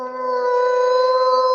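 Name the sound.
howling, likened to a wolf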